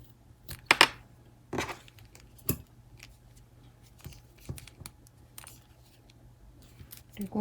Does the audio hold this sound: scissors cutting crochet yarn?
yes